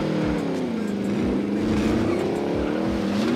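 Car engine droning steadily in a battle royale video game, a continuous mid-pitched hum with slight pitch wavering and low thumps, loud and close with no talk over it.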